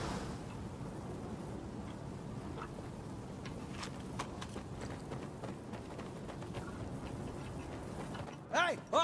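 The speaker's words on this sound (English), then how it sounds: "Changing mags!" A weapon's magazine is changed in Insurgency Sandstorm, with a run of quiet metallic clicks and mechanical rattles over low battle ambience, ending in a couple of sharp loud bursts.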